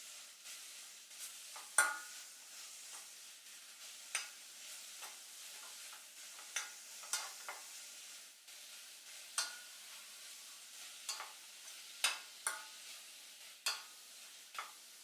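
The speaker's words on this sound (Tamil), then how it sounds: "அதில் இப்போ ஒரு பாதி ஊற்றிக்கலாம். பூசணிக்காய் நல்லா கொஞ்சம் வதக்கிடலாம்." Ash gourd sautéing in ghee in a pan for Kasi halwa: a soft, steady sizzle under repeated sharp scrapes and clicks of a spoon stirring at irregular intervals, close and fairly quiet, with no talking.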